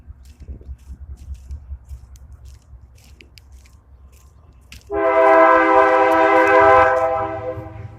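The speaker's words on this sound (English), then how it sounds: "There's the trains." A low rumble of a passing train runs under faint background voices, then a loud, sustained multi-tone train horn blares for about three seconds.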